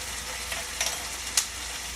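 Steady sizzle of Chardonnay cooking into onions in a hot pan for a vegetarian pumpkin risotto, close and continuous with a few brief spatters.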